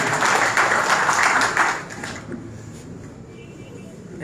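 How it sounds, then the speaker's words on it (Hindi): At a state meeting of an outsourced workers' federation, a crowd breaks into loud, steady clapping that holds for nearly two seconds, then quickly fades into quiet room murmur. "जोरदार तालियों से इनका स्वागत करें।"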